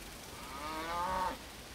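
A single drawn-out moo from cattle on a farm in a dry desert region, fairly close and clear, rising and then cutting off, with faint background noise and no talking.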